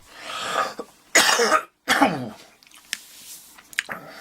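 A person coughs several times in harsh, close bursts, then the coughing trails off into quieter breaths and small throat sounds.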